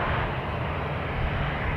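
Hawaiian Boeing 787-9 airliner taking off at San Francisco International Airport, a steady, loud jet engine roar with deep low rumble held throughout, no talk.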